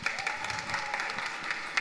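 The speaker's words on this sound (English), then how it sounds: "Clap it up for yourselves." Audience applause fills a hall at a health equity summit after a step dance performance, steady dense clapping throughout with a few sharper claps standing out, no talk over it.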